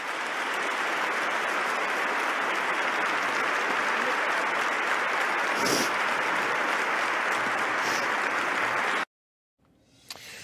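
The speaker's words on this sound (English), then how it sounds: "Listen to that applause." Sustained applause from a large crowd at St. Patrick's Cathedral fills the space evenly for about nine seconds, dense and loud, then stops abruptly.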